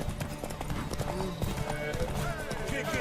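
Horse hooves clip-clop steadily in The Witcher 3: Wild Hunt, a rapid continuous trotting rhythm mixed under game music, crowd noise and a man's speech.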